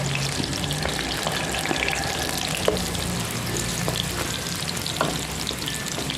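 Garlic sautéing in a pan for a long bean chili dish, a steady close sizzle with occasional scrapes and clinks of stirring, continuous and moderately loud with no talking.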